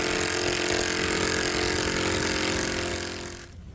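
A DCA ADPL03-14 cordless brushless impact driver runs on its high setting, giving a dense, loud hammering rattle up close that tapers off at the end.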